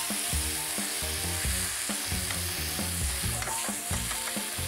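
A wooden spoon stirs crushed canned tomatoes cooking in a pan, giving a steady, fairly loud sizzle and bubbling with soft repeated scraping strokes and no talk.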